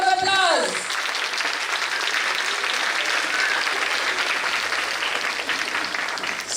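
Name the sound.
audience applause at school investiture ceremony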